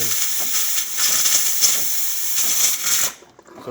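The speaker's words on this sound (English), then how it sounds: "Nice strong steam." A DeLonghi Magnifica espresso machine's steam wand hisses strongly and steadily at close range, with slight pulsing sputters, before cutting off abruptly near the end.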